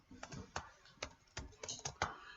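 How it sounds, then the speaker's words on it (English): Typing on a computer keyboard, a soft, close series of separate key clicks in an uneven rhythm, about a dozen presses over a couple of seconds in a quiet room. "I'm typing in inspections to see what comes up."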